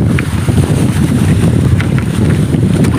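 Steady strong wind buffets the microphone with a constant low rumble, with faint water and boat noise underneath, out at sea during net fishing for lobster.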